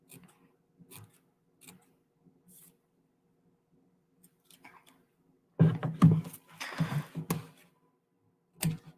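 Scissors snip through paper while making paper feathers, a few faint scattered cuts and squeaks, then a louder cluster of close rasping snips, with quiet gaps between them.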